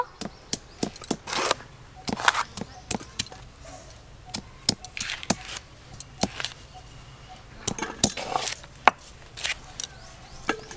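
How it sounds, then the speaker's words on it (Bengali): A knife chops capsicum on a board in a home kitchen, sounding as a steady run of sharp, close taps with uneven spacing and no talking. "ক্যাপসিকামটা কেটে নেব।"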